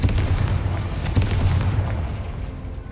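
A Confringo spell bursts in a Harry Potter video game, a loud, deep boom with a rumbling blast that sustains and slowly fades over a few seconds.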